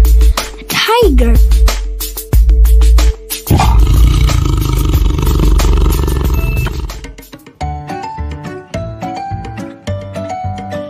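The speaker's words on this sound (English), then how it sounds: "A tiger, a tiger." A tiger gives a deep, loud roar followed by rumbling growls, set among short sound effects and a tinkling musical passage toward the end.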